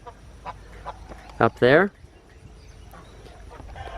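Geese and chickens on a homestead, with one loud goose honk or squawk burst in the middle standing out over a quiet yard, and a person speaking briefly nearby.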